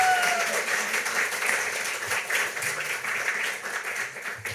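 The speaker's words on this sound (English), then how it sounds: "I didn't give you a round of applause for Tim and Becky" A conference audience applauds two presenters, Tim and Becky, with a steady wash of clapping from many hands that stays even throughout.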